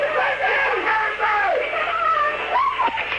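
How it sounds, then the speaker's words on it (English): A mother screams and wails continuously in the background of an emergency call, rising and falling cries heard through a muffled, noisy phone line. "I could hear in the background the mother screaming"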